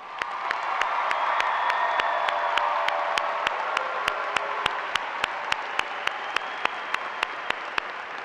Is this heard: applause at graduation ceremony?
yes